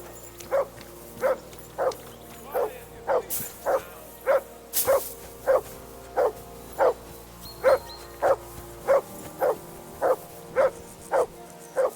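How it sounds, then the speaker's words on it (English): A dog barks in the video game Kingdom Come: Deliverance II, sounding about fifteen loud, evenly spaced woofs over a faint ambient background, with no speech. "I assume you can hear that damn dog of yours barking."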